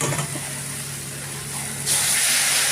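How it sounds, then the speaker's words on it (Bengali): Hot water poured onto fried spices in a pan for fish curry, giving a sudden loud, steady hiss of steam after a quieter stretch of low cooking noise. "দেখো, মশলাটা বেশ ভাজা ভাজা হয়ে গেল সবগুলোই। এবারে এতে গরম জল দেবো।"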